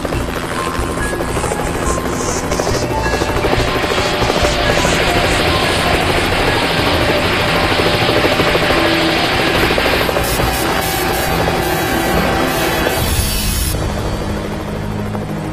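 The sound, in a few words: helicopter hovering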